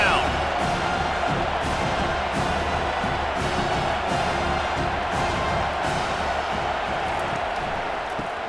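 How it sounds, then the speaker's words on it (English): A packed stadium crowd roars in the EA NCAA Football 25 video game during a third-down defensive stand, a dense, sustained wall of cheering with swelling waves, under steady commentary talk. "Decibels rising as the crowd gets behind this defense on third down."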